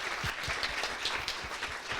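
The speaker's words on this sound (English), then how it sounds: "a warm applause for all of you." An audience closing a talk session with warm applause, a sustained even patter of many hands clapping at a moderate distance, steady throughout with no speech over it.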